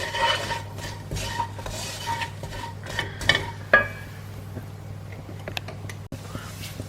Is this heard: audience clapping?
no